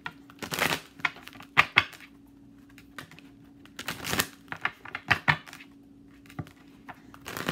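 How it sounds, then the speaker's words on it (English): Oracle cards are shuffled and pulled, giving irregular bursts of crisp riffling and slapping clicks at close range, with quiet gaps between them and no speech. "I'm going to pull an oracle card for you as well."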